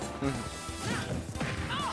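Forward smash attacks land in Super Smash Bros. Ultimate, a Mario versus Bayonetta match, as a couple of sharp game impacts and swooshes layered under a commentator's excited talk.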